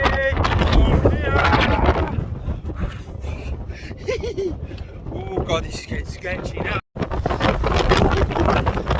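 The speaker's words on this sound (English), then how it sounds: "Oh, it's a bit windy." Heavy wind of about 60 mph on a Snowdonia mountain ridge buffets the microphone in loud, roaring gusts while a person speaks over it, with a brief dropout near the end.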